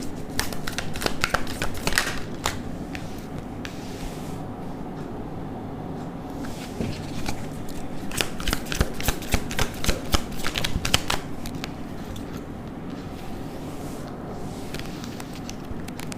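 Tarot cards shuffled in dense, rapid riffling bursts that come and go over the whole stretch, a steady papery flutter with brief pauses, close and fairly quiet with no talking.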